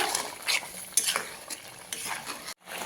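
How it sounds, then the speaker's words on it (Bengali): Spoon stirring through poppy seed paste with green chillies in a pan during hilsa fish cooking, giving a series of scraping strokes with a light sizzle and a brief sudden drop to near silence. "পোস্ত বাটাটা দিয়ে একটু নাড়াচাড়া করে নেব"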